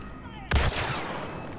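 A single sharp sniper shot in the Star Wars Battlefront video game, a sudden loud crack followed by a short rumbling tail and lingering game ambience.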